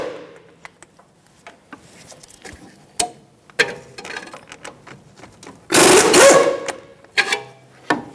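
Socket wrench ratcheting on the wheel bearing hub mounting bolts at the back of the steering knuckle of a 2013-2018 Toyota RAV4: scattered close clicks and taps, then one loud grinding burst, then a few more clicks.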